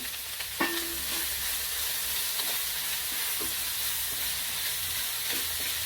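Shallots and green chilies sizzling in a pan for a squid roast, a continuous bright frying hiss with a few faint stirring knocks of a spoon against the pan, heard up close with no talking.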